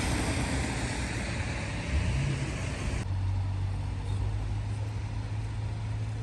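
Cars pass along a quiet small-town street in Europe, a steady broadband traffic roar with a low engine hum rising near the middle as a vehicle goes by close, then continuing more softly.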